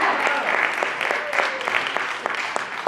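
Audience at a poetry slam festival finals stage breaks into steady applause after a team's score is announced, a continuous wash of clapping with individual sharp claps standing out, loud and close, faint voices underneath.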